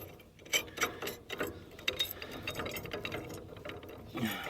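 A ratchet tightens a nut and washer on a trailer spring, with steady quick clicking at close range, fairly quiet, with a few louder clacks mixed in.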